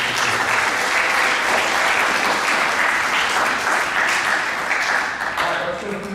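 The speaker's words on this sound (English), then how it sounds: "So give that a round of applause." An audience at a school awards assembly gives sustained, dense applause that fills the room, loud and steady before tapering slightly near the end, with faint crowd voices mixed in.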